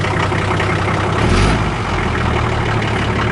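A 1976 International Harvester Scout II Terra diesel engine runs loud and steady nearby, a deep rumbling idle with a brief swell partway through.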